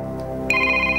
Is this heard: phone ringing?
yes